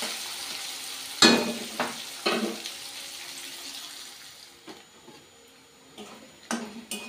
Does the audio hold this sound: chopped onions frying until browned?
yes